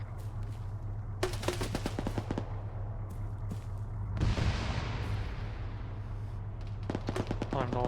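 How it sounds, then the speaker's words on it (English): Repeated rapid bursts of gunfire from an opposing team during a field training exercise, loud clattering volleys separated by pauses over a steady low background hum. "That's HNG shooting at us again."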